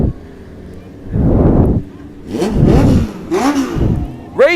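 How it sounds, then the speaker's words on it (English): Legends race cars and a pace car pass on the New Hampshire Speedway oval during a NASCAR Cup Series race week. Engines rise and fall in several loud, close drive-bys with wind buffeting the microphone. "You just saw the Legends cars go by, Milo the pace car taking its lap around"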